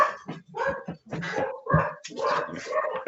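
A dog barks and whimpers close by, a run of short yips and whining cries broken by brief pauses, loud and alone.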